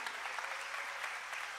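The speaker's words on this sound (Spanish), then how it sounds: "dale un fuerte aplauso al Señor, que se oiga esos aplausos." A church congregation claps together in a sustained, dense round of applause, steady and fairly distant, with a faint voice in the background.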